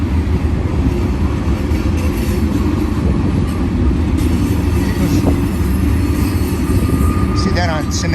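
A BNSF heavy freight train of gondolas and hoppers rolls past near Sullivan's Curve by the old Cajon depot site, with a loud continuous rumble, rattling cars and brief wheel squeals, while people talk nearby.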